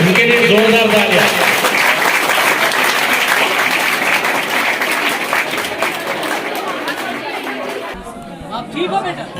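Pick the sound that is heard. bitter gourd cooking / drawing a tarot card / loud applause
loud applause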